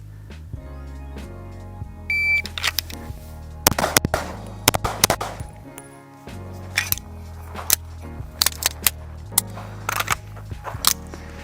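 Sharp pistol shots from an Atlas Artemis crack out in an irregular series across the span, loud, close and separated by brief pauses, some doubled in quick pairs, with faint metallic handling sounds between.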